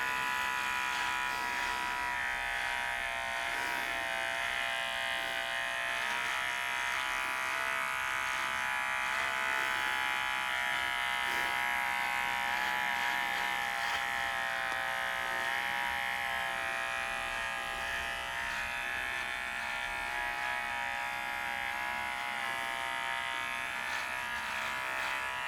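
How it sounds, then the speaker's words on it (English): A steady, continuous electric shaver buzz runs close and loud through the whole stretch as a man shaves his face, with no talking over it. "Let me just continue shaving my face"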